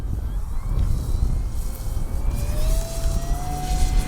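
An RC Avios Super Tucano model airplane takes off from turf with takeoff flaps set, its propeller engine droning steadily and rising in pitch as it climbs, moderately loud, with no one speaking.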